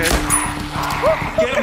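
A dog companion in the VR zombie game Arizona Sunshine 2 barks, yips and whimpers up close, short sharp calls mixed with whines while someone speaks over them.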